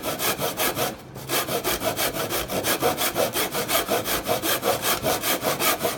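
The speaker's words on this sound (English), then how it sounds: "make sure you're sawing flat and straight" Steady back-and-forth strokes of a hand saw cutting through wood, a fast even rhythm of rasping pulls, close and loud, with one brief pause.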